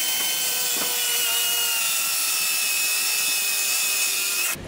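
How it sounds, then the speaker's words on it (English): A drill with a Forstner bit boring holes into scrap wood for a shot glass tray, one loud continuous whine held steady for over four seconds before cutting off abruptly, close by. "I'm going to go ahead now and start drilling holes for the shot glasses to sit."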